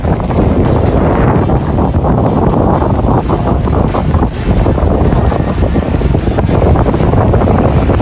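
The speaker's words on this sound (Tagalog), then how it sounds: "Hangin, ang lakas! Ang lakas ang hangin" Strong, steady wind roars by the sea at Pugad Lawin, Pagbilao, Quezon, mixed with rough surf, loud and continuous from start to end.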